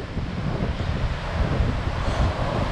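Rough sea surf and strong wind make a steady, loud broadband roar with continuous rumbling and no distinct breaks, wind buffeting the microphone throughout.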